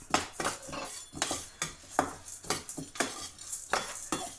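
A utensil repeatedly scrapes and taps against a pan as cumin and green gram lentils are stirred and dry-roasted, producing a rhythmic series of metallic scrapes with faint sizzling, close and fairly quiet.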